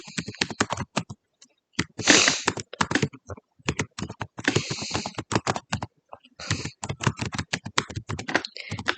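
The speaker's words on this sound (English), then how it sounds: "you can just type in the email and also the password" Fingers tap steadily on a computer keyboard while an email and password are entered, with quick close clicking runs broken by short pauses; no one speaks.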